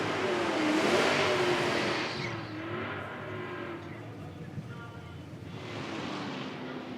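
Drag racers, a 1955 Bel Air and a 2016 Cobra Jet, roar and rev hard as they accelerate down an IHRA drag strip in West Salem, the engine noise loud and sustained beneath a commentator talking.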